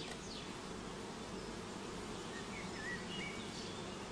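Honeybees from a shook swarm drone in a soft, steady buzz that holds without a break. Faint bird chirps rise now and then in the background.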